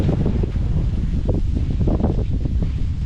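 Strong wind roars and buffets the microphone continuously in a vegetable garden, with low rumbling gusts surging and easing throughout.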